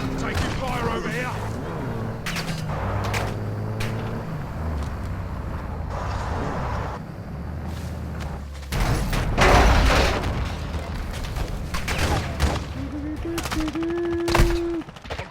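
Machine-gun bursts and scattered gunshots in the Call of Duty video game, loud and continuous under a busy battle soundscape with vehicle rumble and a heavier burst near the middle, while voices talk over it.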